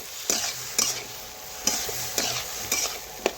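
Small hilsa fish curry with potato and aubergine being stir-fried, a soft sizzle broken by sharp spatula scrapes against the pan roughly every half second, close and without talk.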